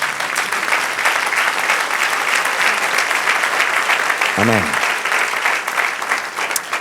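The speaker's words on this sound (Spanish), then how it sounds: "Dale aplauso al Señor." Church congregation applauding in praise throughout, a steady wash of many hands clapping with a brief spoken word from a voice partway through.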